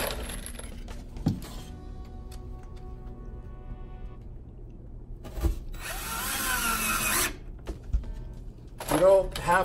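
Power drill driving screws into tile backer board, short bursts of whirring with pauses between them, close by, with quiet knocks and a person talking in stretches.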